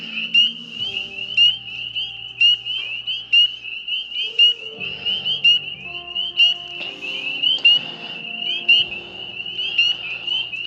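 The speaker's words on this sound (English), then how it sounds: "Second day of searching for the eastern gray tree frog, and guess what? Here he is." An eastern gray tree frog gives repeated loud, rapid trilling croaks in a steady rhythm, close by, with fainter animal sounds underneath.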